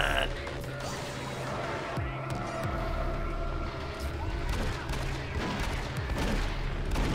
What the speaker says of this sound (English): Oh, they can shoot at me too?